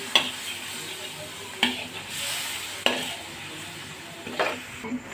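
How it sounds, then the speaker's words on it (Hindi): A spoon stirs chicken jalfrezi sauce with soy sauce and tomato ketchup in a pan, giving a few sharp scrapes against the metal over a soft continuous sizzle, close and fairly quiet. "ये देखिए, इसको हमने अच्छी तरह से मिक्स कर देना है।"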